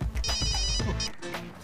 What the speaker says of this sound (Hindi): मेरी बीवी का फोन।